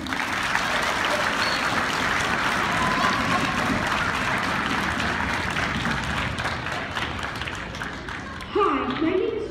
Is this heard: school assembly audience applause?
yes